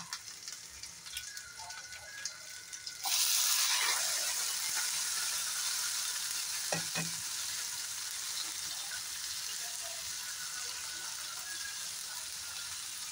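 Onion and tomato frying in a pan for a bhindi dish, stirred with a utensil. A soft sizzle swells up suddenly and then hisses on steadily, with occasional scraping clicks from the stirring.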